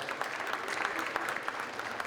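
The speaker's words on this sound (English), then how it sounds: "can you please give a round of applause to Mr. Anthony" Faint, distant applause at a barbershop shave event, a thin patter of clapping from a small group heard at low level throughout.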